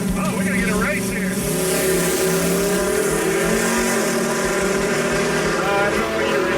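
Race cars accelerate in a race, engines droning and rising in pitch as they pull away, loud and near, while people talk over the roar.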